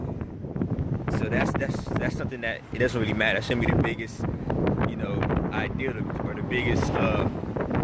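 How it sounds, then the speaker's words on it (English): Wind gusts outdoors buffet the microphone in low rumbling bursts, running constantly beneath someone talking close to the mic. "Sorry if you hear a lot of wind in the background."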